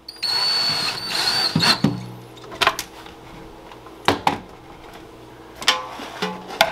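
Power drill driving four screws back into the impeller housing of a Fluval FX6 aquarium canister filter, with a steady whir at first and then several short bursts of drilling and snugging.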